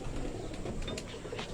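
A Sharmili breed pigeon cooing softly, faint low murmuring coos with a few brief flutter-like rustles, fairly close in a quiet setting without talk.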